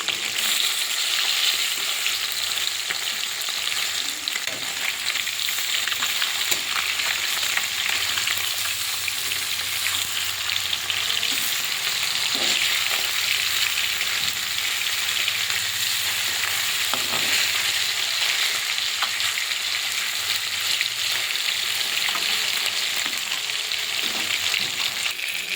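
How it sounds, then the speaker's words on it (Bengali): Fish frying in hot oil in a wok, a loud continuous close sizzle and crackle that holds steady throughout, with occasional faint clinks, no voices. "এবারে মাছগুলো ভেজে নেব"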